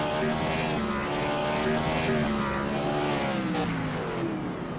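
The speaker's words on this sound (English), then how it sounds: "Plenty left over for the burnouts. Beautiful burnout." An IROC race car at Atlanta holds a sustained burnout, its engine roaring at steady high revs with a wavering tone, loud and continuous without a break.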